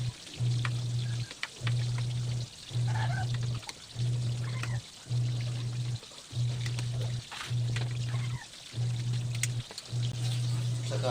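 Tilapia frying in a pan sizzles with a steady, dense hiss, while a low hum pulses on and off about once a second underneath; no one speaks.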